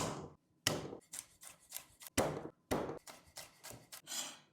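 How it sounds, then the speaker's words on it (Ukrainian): Nine garlic cloves chopped with a knife on a board, a rapid series of sharp, close knocks in an irregular rhythm with brief pauses between bursts. "Я так нарізаю 9 зубчиків чесника."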